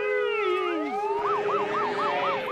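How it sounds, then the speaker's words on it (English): A vehicle siren winds up in a horror movie scene from 1988, starting with a rising wail and settling into a fast, repeating yelp, loud and alone. "He turned the freaking siren on."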